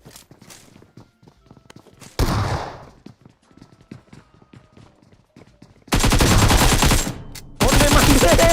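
Automatic gunfire in PUBG Mobile crackles in loud bursts, one short burst early and two long sustained volleys at the end, with quiet footsteps and movement between them.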